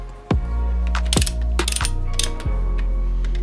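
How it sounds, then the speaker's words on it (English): A hand ratchet clicks rapidly in short bursts, heard close, while nuts are tightened to torque on a Caterpillar C0.7 diesel engine during a piston rebuild, with brief pauses between strokes and a faint background hum. "tighten nuts to 16 foot-pounds. We're going to give these a good tighten up here."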